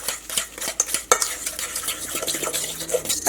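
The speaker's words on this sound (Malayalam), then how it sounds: "തേങ്ങയും മുട്ടയും പഞ്ചസാരയും എല്ലാം കൂടിയിട്ട് നന്നായിട്ടൊന്ന് മിക്സ് ആയിട്ട് വരണം" Grated coconut, egg and sugar being stirred together in a bowl, with a spoon scraping and clinking against the sides in quick, uneven strokes close by, no voices.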